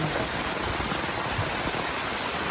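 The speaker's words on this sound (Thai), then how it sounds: "น้ำไหลลงมา" Heavy rain sends water pouring and flowing down in a steady, dense rush, close and continuous with no talk.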